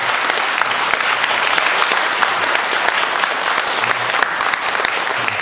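A church congregation at a Sunday morning service applauds loudly and continuously, many hands clapping in a thick, bright wash that runs without pause from start to finish.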